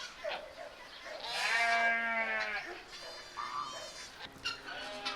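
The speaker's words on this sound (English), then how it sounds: "So we have all the mama goats in here" Several goats bleat one after another, long wavering cries close by, with another goat answering near the end.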